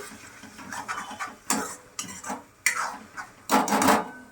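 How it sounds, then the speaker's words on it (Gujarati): Tomato puree from two large tomatoes is stirred into sautéed whole garlic in a pan, a spoon scraping and sloshing in uneven bursts of wet stirring, close and moderately loud, with no speech. "આ 2 મોટા ટમેટાની પ્યુરી કરી છે એ આની અંદર આપણે નાખી દઈએ અને મિક્સ કરી દઈએ."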